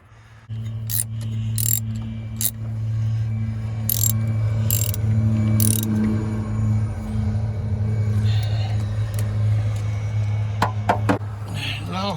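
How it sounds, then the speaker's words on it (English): Threading a nut onto the hydraulic clutch of a 1965 White tractor, with sharp metallic ratchet clicks in bursts over a steady low engine-like hum, then scattered knocks and rattles near the end. "I'm putting a third nut on."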